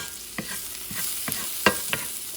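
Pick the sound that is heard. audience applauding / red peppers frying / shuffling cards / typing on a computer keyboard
red peppers frying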